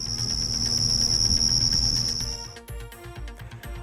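A loud, steady high-pitched cricket chirr, standing in for tinnitus buzzing, drones for about two and a half seconds before cutting off into quieter background sounds.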